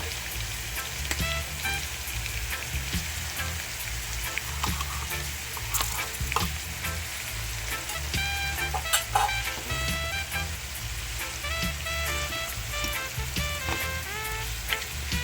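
Pork sizzles and fries in a pot while bully beef and rice are cooked, giving a steady, dense crackle with scattered pops throughout and no talk.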